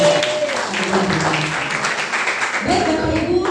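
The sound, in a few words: congregation applause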